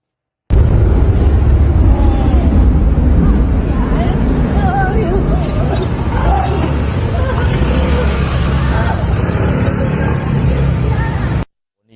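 A factory explosion in Taiwan: a loud, continuous roar fills the whole stretch, with rumbling noise and faint voices mixed in.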